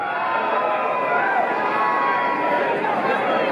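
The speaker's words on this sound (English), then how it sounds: "I heard a big cheer." Crowd cheering at a concert in Los Angeles, a dense continuous roar of voices and shouts filling the space, steady and loud throughout.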